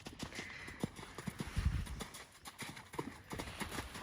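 Horse hooves clip-clop in an uneven, quick rhythm nearby during dressage and jumping training, with a few heavier thuds partway through.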